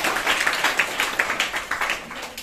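Students at a school quiz competition clap together in a brief, close burst, the applause pulsing in a quick, uneven rhythm for a couple of seconds.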